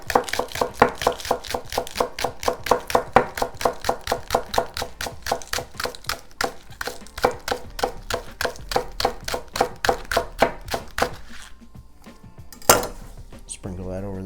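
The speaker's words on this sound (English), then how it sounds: "all I'm going to do is slice up some scallion" A knife thinly slicing scallions on a cutting board, with fast, even, close chopping taps running steadily for over ten seconds before they slow and stop.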